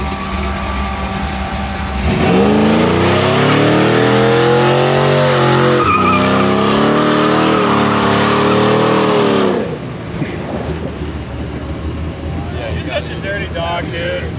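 A car at the Hot Rod Power Tour 2022 does a burnout. Its tyres squeal and skid loudly for about seven seconds over a revving engine, then the squeal gives way to a lower engine rumble.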